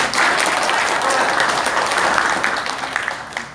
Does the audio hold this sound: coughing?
no